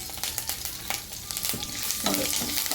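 Curry leaves and asafoetida frying in hot oil, a steady crackling sizzle with sharp pops and occasional stirring scrapes, close and fairly quiet, no voices.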